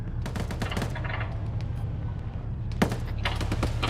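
A mounted gun fires in a video game: rapid bursts of automatic fire crackle in clusters, fading briefly mid-way, then resuming with a sharper crack over a steady low rumble.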